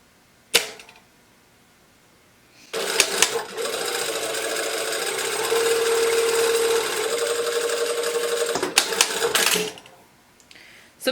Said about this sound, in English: because I have a straight stitch machine, I stitch this with the wrong side up, and then I just follow my serge line